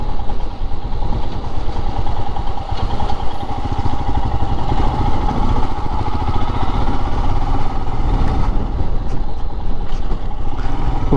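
Royal Enfield Himalayan BS6 2021 motorcycle in Granite Black being ridden on an open road, its engine a steady, close, unbroken drone mixed with rushing wind throughout, with no talking.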